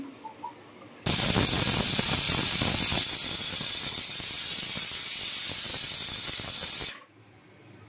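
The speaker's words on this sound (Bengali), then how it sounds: "প্রথম একটা সিটি হলো" An old pressure cooker whistling on a stove while goat head meat cooks with chickpea dal, a loud steady hissing shriek that starts abruptly, holds for about six seconds, then cuts off, close and alone.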